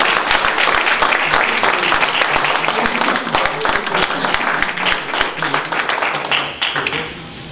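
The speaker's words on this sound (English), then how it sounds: "I think she deserves a round of applause" An audience at the Park Forest Commission on Human Relations Good Eggs awards applauds an award recipient, a longtime resident, with dense, loud, close clapping that holds steady before tapering slightly at the end.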